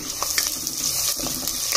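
Chopped onions sizzle in hot oil in a pan for a broad beans gravy, a steady fry with a few sharp clinks and scrapes of stirring, close and loud with no talking.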